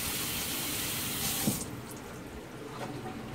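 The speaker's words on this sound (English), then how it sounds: "give me a second to wash my hands" A kitchen sink faucet runs steadily while hands are washed, a close hissing stream that drops to a quieter flow partway through, with no speech.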